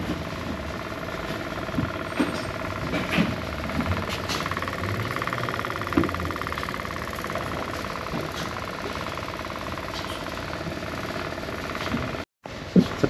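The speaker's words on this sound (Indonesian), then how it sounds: "Satu kali dengar motor ini memang keras suara mesinnya kan" A CFMOTO 450 MT motorcycle engine idles steadily at close range, a continuous even rumble that holds throughout and drops out briefly near the end.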